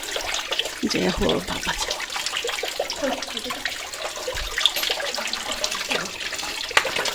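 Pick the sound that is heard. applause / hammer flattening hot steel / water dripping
water dripping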